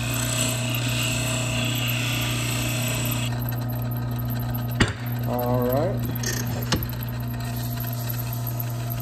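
A turning tool cuts wood on a spinning lathe while a duck call is shaped, a steady motor hum underneath brief scraping contacts and a sharp knock midway.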